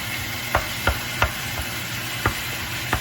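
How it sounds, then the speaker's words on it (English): Ground beef browning in a pan for taco meat, broken into small chunks with a utensil, giving sharp scraping stirs about every half second over a steady low sizzle. "right now I'm just browning off the beef, and as you can see, I'm breaking it up into small chunks as well"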